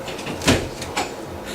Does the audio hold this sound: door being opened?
yes